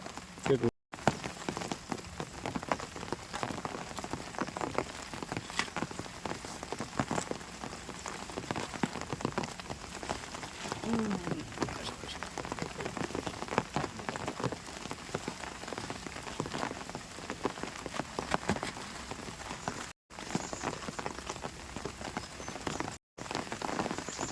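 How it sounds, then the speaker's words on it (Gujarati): Monsoon rain of the Magha season pours down without a break, a dense close patter on surfaces that holds steady at moderate volume, cut by a few abrupt gaps. "મઘાનો વરસાદ પડી રહ્યો છે"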